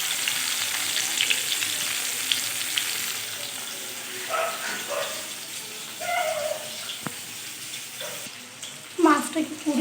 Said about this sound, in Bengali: আর এই যে মাছটা ভাজা হচ্ছে।